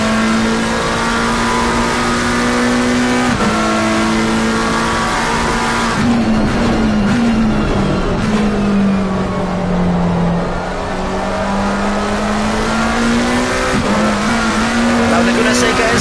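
GT3 race car engine in a racing video game at Laguna Seca, a loud sustained high-pitched whine that dips and climbs as it winds up through the gears, with commentary talking over it throughout.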